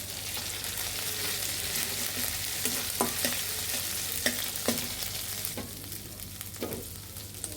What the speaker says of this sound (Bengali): আদা আর রসুন বাটাটা ভালোভাবে ভেজে নিতে হবে যাতে আদা রসুনের কাঁচা ফ্লেভারটা চলে যায়